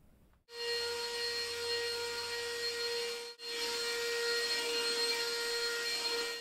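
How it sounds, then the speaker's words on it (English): Handheld vacuum cleaner running on a couch with weak suction, a steady whining hum with a strong tonal drone that cuts out briefly and restarts, no voices. "I was mostly just pushing the stuff off the couch onto the floor because our vacuum for the floor is better than this one"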